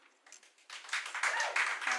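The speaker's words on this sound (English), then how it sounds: "we don't need a clapping. No clapping, sorry." Brief applause from attendees at a school board meeting, a short burst of clapping that swells and continues steadily right after a vote.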